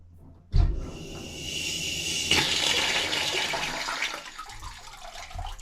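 Water rushes through newly installed plumbing in a passive house under construction, a sudden loud gush followed by a sustained hissing flow from a leaking fitting, tapering toward the end.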